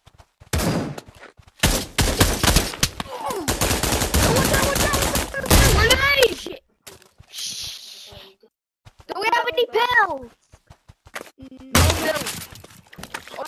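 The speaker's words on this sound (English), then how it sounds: "let me just shoot some warning shots. for Matt." Bursts of gunfire in a WWII video game, loud rapid volleys of shots in several separate stretches, with a voice and other game sounds between them.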